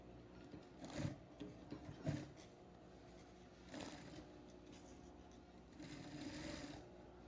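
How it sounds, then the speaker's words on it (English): A sewing machine top stitches the waist seam of jeans, its faint continuous mechanical hum running throughout with soft bursts of handling noise. "Sew slowly and focus on keeping the top stitch straight and close to the center seam"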